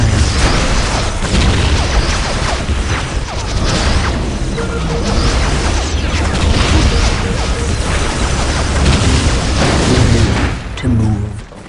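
Battle noise from Warhammer 40,000: Dark Crusade, with the Imperial Guard under enemy fire: dense, continuous gunfire and booming explosions, loud and close throughout, with clanking mechanical sounds and a brief lull near the end.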